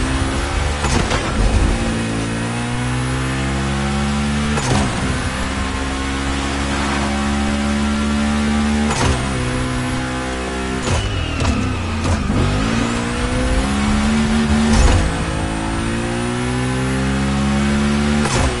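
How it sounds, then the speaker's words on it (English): A Volkswagen Combi van's engine revs hard while racing in The Crew Motorfest: a steady, loud mid-range drone with rising and falling pitch sweeps, broken by several sharp gear-shift dips across the run, with no talk. "The Combi is and will remain the most emblematic van of all time."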